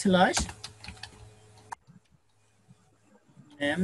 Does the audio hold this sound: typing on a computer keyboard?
yes